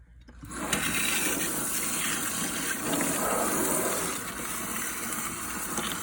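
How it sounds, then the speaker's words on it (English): Water gushes strongly and steadily from a tap or shower as shampoo is rinsed out of a wig, starting abruptly and continuing close and loud, with no voices. "Once I rinse it out, we will see if we need to shampoo it again."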